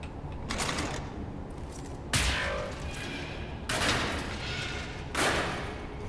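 Four sharp gunshot bursts from Wolfenstein: The New Order ring out at irregular intervals, each a loud broadband crack with a short decaying tail over a low ambient bed.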